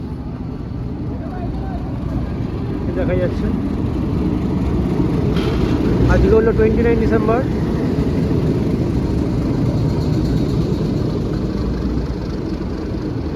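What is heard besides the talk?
train arriving at station platform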